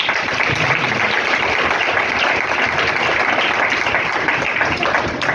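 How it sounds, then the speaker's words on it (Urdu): A congregation at an Urdu/Hindi church sermon breaks into loud, steady applause that fills the whole stretch as a dense, unbroken wash of clapping with no pauses. "کوئی تالی بجا سکتے ہیں؟"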